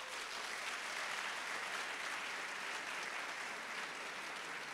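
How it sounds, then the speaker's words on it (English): Students at a conference session break into a round of applause, a dense steady wash of clapping that holds evenly from start to finish with no voices on top. "let me hear a round of applause"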